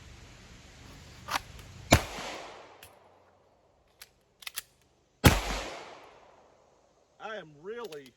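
Outdoor pistol practice, firing from an appendix-carry holster during a reload drill: a sharp shot, a short pause with a faint metallic click of the reload, then a second loud report echoing away, followed by brief wavering sounds.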